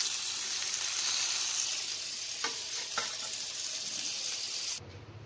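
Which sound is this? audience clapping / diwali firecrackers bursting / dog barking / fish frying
fish frying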